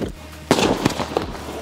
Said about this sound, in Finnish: ennen sitä on tää 100 euron ilotulite